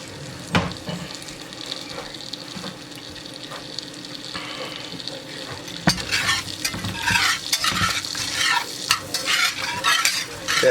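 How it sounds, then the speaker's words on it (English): A small onion sizzles in melted butter in a pot, starting as a soft low hiss with occasional clinks and rising into a louder, crackling fry while it is stirred. "So to the butter I'm going to add my small onion. We're going to get this clarified."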